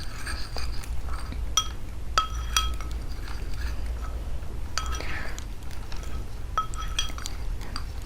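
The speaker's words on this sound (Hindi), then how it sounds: "अब हम इन तीनों को अच्छे से मिक्स करेंगे।" A spoon clinks against a glass bowl in a few scattered, light taps while equal parts of face pack ingredients are mixed together, over a low steady background hum.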